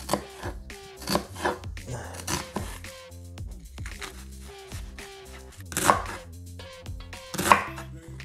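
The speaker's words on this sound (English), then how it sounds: "So we're gonna mince it like this, put it on this plate right here to the side." Knife mincing an onion on a cutting board for keto low-carb lasagna: rapid irregular chopping taps, close and fairly soft, with a few sharper knocks, no talking.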